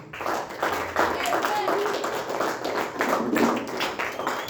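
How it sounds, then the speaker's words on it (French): Audience applause at a Sunday church service, a brief burst of brisk clapping, fairly close and uneven, with voices mixed in. "Applaudissons une fois encore."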